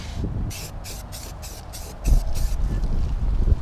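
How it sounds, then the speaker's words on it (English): Steady low rumbling wind buffeting the microphone outdoors, with rhythmic bursts of rattle-can spray paint hissing in short pulses over it while painting a Nissan 240SX. "Oh man, it's windy."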